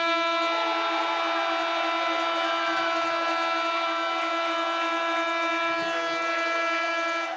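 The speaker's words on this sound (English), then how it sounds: "The siren sounds." A long, steady siren at a football ground ends a league grand final, holding one loud tone with rich harmonics for the whole stretch, unbroken and close.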